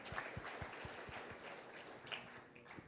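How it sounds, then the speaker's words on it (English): Audience applause at a wetlands science panel held at a women's club, a steady wash of many hands clapping at moderate distance, sustained for about three seconds with no talk. "let's give them a round of applause"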